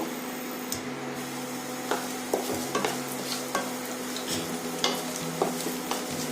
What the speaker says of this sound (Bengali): এবার কাজুগুলোকে ভেজে নেব।